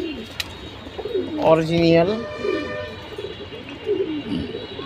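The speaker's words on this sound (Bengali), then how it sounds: "আর্মি কবুতর নিয়ে আসলাম," A matched pair of Army breed pigeons, one male and one female, coo close by. A rolling, throaty call rises in the middle while someone talks briefly over the background.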